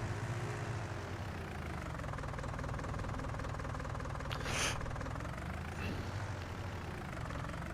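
A tractor engine in the video game Farming Simulator 19 runs steadily with a low, continuous drone, holding an even level throughout with a brief brighter swell in the middle.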